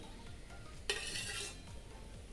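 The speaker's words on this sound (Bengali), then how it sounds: "এই সময় এর মধ্যে দিয়ে দেবো আগে থেকে ভেজে রাখা পটল" Fried pointed gourd pieces dropped into a simmering mustard and poppy seed gravy, a brief clatter and splash of the vegetables landing in the pan with a short sizzle over a quiet kitchen background.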